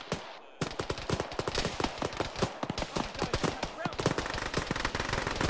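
A PKM heavy machine gun in the military video game Arma fires long, rapid bursts of rattling automatic fire after a brief quiet start. The shots keep coming almost without pause, loud and close, while other battlefield noise sounds faintly underneath.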